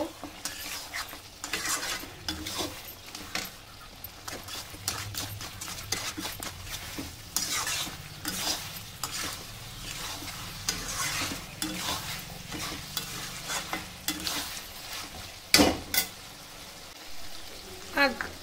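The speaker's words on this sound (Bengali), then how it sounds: "আর দেবো হলুদ গুঁড়ো 1 চামচ। দিয়ে ভালো করে কষিয়ে নেব।" Chicken masala sautéing in a pan with a spoonful of turmeric powder, the spoon scraping and tapping against the cookware in an irregular rhythm over a soft, continuous sizzle, heard close and moderately quiet.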